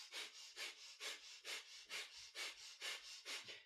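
Rapid rhythmic panting of breath of fire during a kundalini yoga heart-opener kriya, about twelve quick, even breathy pulses, close but soft, with no talking.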